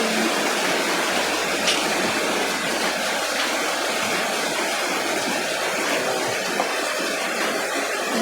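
Water poured steadily into a pot of soup in a home kitchen, a continuous loud, close rushing splash that keeps an even level throughout.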